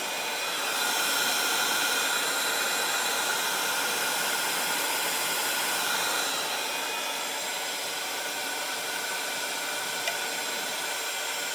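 A heat gun blows steadily for heat embossing gold and silver powder on a Father's Day card, a loud continuous airy hiss lasting several seconds with no talk over it.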